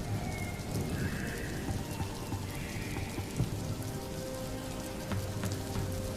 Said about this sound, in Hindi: अरे बारिश बढ़ती जा रही है